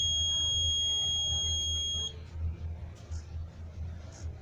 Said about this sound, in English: And there's a buzzer that sounds.